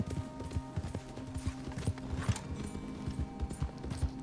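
Horse hooves clip-clop steadily in Red Dead on PS4, an even trotting rhythm of distinct thuds at moderate volume, with a faint background hum and no talk.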